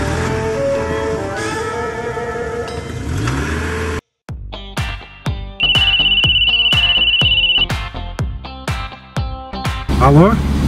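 A mobile phone ringtone rings inside a car, a steady electronic tone lasting about two seconds amid engine noise, clicks and brief sounds, with talk before it.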